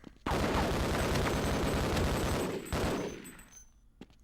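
Sustained automatic gunfire from a machine gun in the shooter game Half-Life: Decay, a loud continuous burst lasting over two seconds, then a brief renewed burst that trails off into fading echoes and a single late shot.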